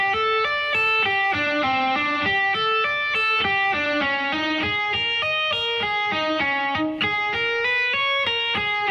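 Slow electric guitar fusion lick with pull-offs and hammer-ons, a steady stream of clear single notes, loud and alone.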